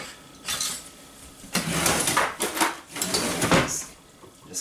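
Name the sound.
whisk mixing orange juice topping in a bowl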